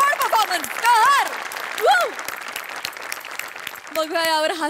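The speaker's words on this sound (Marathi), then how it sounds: "जोरदार टाळ्या" A studio audience at a Marathi comedy show applauds loudly as a continuous wash of clapping, while voices call out and talk over it throughout.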